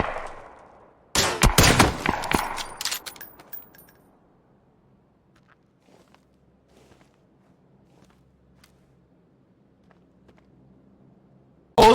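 A burst of gunfire in the PUBG video game rings out as several sharp, loud shots in quick succession, then fades to near silence with faint footsteps and clicks before a final sharp report.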